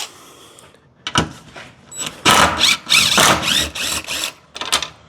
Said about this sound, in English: I've got a 13 millimeter socket on here. We're just gonna take these bolts out of the spare tire carrier.